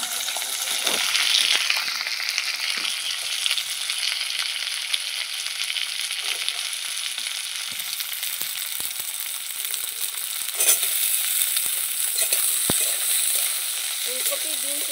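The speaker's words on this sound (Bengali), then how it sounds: "আর আমি সবজিগুলো ভাজবো একটু সাদা তেলেই। আপনারা চাইলে সর্ষের তেলও ভাজতে পারেন। প্রথমে ফুলকপি আর বিনসগুলো আগে ভেজে নেব।" Cauliflower and beans fry in white oil in a pan, giving a steady, close sizzle with occasional stirring clicks and scrapes throughout, and no talking.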